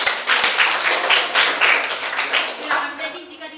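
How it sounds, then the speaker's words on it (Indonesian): A classroom group claps for a few seconds. The applause is dense and steady, with short spiky bursts that slowly thin toward the end. "Oke, kita berikan aplaus dulu."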